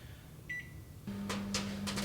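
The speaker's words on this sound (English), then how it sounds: "if you want to pop that in the microwave" A microwave oven starts up for popping food: a short beep, then the steady low hum of the running oven, with faint clicks and rustles near the close.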